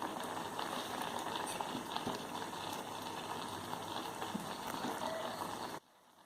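Cucumber kichadi, a Kerala dish, heats in a pot after curd is added, giving a steady close bubbling and simmering hiss that runs evenly for several seconds and then cuts off abruptly near the end.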